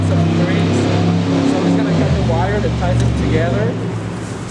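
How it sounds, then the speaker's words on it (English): Cars come and go on a road beside an outdoor spot where a Christmas lantern planter is being arranged, a steady loud engine rumble with a passing swell, heard under a woman's speech. "it's really loud because the cars are coming and going and we cannot help that traffic noise"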